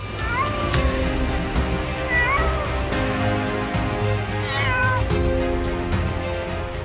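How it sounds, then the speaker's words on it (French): A kitten rescued from drowning at sea meows repeatedly, a few rising-and-falling cries spread over a steady low background hum, fairly close and clear. "ces personnes ont accompli un acte de bonté en sauvant un chaton qui se noyait"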